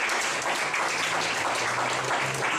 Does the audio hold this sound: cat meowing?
no